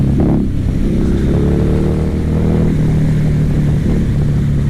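A 2016 Harley-Davidson Night Rod V-twin engine heard while riding, a loud, close, continuous low rumble that rises as it accelerates through the gears, with no talking over it.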